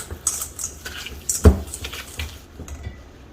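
Cake batter for a pineapple upside-down cake is whisked in a bowl, giving brief light clinks and taps of the whisk against the side, with one louder knock partway through.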